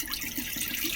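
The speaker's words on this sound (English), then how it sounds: "refilling your bowl," Tap water runs steadily into a bowl during the washing of homemade butter made from cream, a continuous close splashing hiss with no voices.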